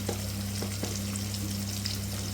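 Tomatoes frying in oil in a pan for Rayalaseema-style borugula uggani, a dense, continuous close sizzle with a few small pops and a low hum underneath.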